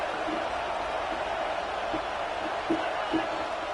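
Stadium crowd in a college football video game with South Carolina at home: a steady, dense roar with faint cheers rising now and then beneath commentary.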